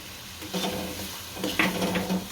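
Tomato masala with salt, turmeric and chili stirred in a pan, a steady soft sizzle with a few scraping stirs of a utensil, close and alone.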